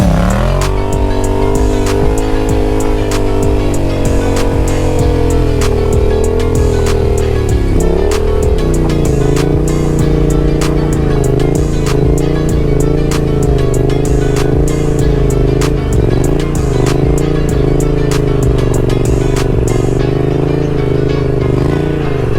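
A Yamaha XSR700 stunt motorcycle is ridden through wheelies, its engine loud and close, revving up and down continuously with throttle blips and steady droning stretches.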